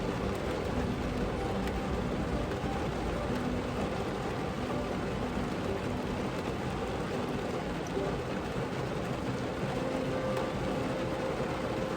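Steady rain patters on the roof and body of a car parked outdoors. It sounds close and constant, with no voices.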